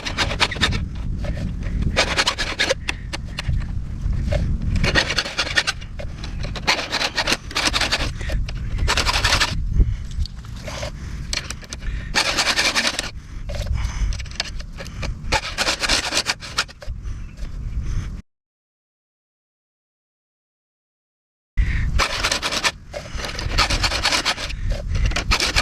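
Chainsaw chain being sharpened with a STIHL 2-in-1 filing guide and saw chain sharpener, close rhythmic rasping strokes repeated over and over, broken by a short silent gap before the filing resumes.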